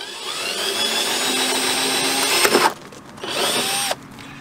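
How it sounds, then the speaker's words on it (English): A power drill boring a hole in plastic, a close high-pitched whine running steadily for a few seconds, stopping briefly, then spinning up again before cutting off. "drill another hole in it"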